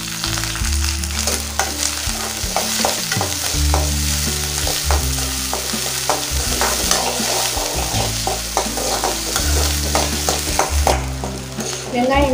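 Small onions sautéing in oil in a pan for okra sambar, a steady close sizzle with repeated scraping and stirring strokes throughout, no voices.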